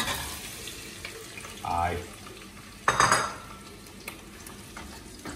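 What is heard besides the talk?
onions frying in hot oil in a pan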